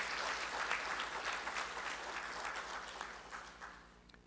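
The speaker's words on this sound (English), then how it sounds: "they deserve a hearty round of applause for this effort." A round of applause fills the hall at the opening ceremony of a CARICOM advocacy forum on statistics, steady and moderately distant, then tapering off toward the end.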